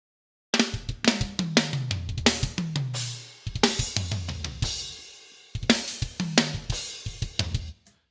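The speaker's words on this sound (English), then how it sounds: "that gives us our initial drum mix, which is basically this" An initial drum mix for a gospel-style production plays back loud and close, with punchy kicks, snares and cymbals in a steady groove, a pitched low tom-like fill sliding downward, and short breaks between phrases.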